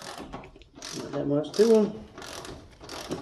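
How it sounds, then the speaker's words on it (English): An air ratchet loosens bolts on the spindle of a John Deere ZTrak mower, giving short mechanical ratcheting bursts up close while someone speaks briefly over it. "I'll probably do this with an air ratchet."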